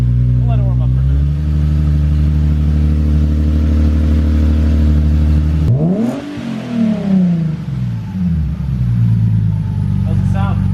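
A Nissan Nismo 370Z drift build idles loudly while warming up, a steady low engine drone with a brief blip of revs midway before settling back to idle; voices talk over it.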